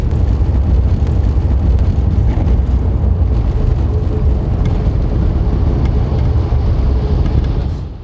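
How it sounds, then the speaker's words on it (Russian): A Magnit garbage truck drives fast at night, giving a steady, loud, low engine and road rumble with wind noise that stays constant throughout and fades slightly at the very end. "На всех парах машина «Магнита» под покровом ночи мчится сюда"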